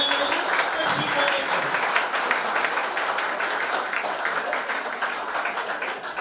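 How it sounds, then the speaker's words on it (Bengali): An audience at a felicitation ceremony for selected police constable candidates applauds loudly and continuously, dense clapping filling the room from start to finish. "সকলে জোরে হাততালি দেবেন"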